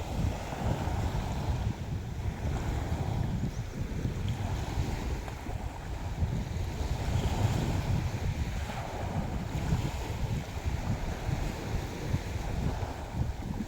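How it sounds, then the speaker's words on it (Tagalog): Sea waves wash against the shore beside a moored wooden boat, a continuous rough surf with steady wind buffeting the microphone and no clear breaks between swells. "Ito ay maalon. Sa gilid po. Ito po ay dagat na."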